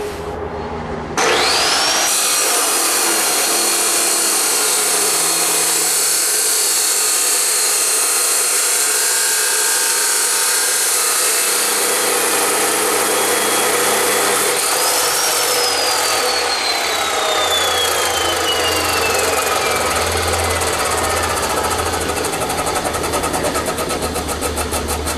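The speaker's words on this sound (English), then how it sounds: "I'm going to cut a piece of that tubing to get an idea of what it does." A power saw runs loud and continuous while cutting a piece of tubing, starting abruptly after a brief quiet moment and holding a steady high-pitched whine that shifts partway through as the blade bites into the material.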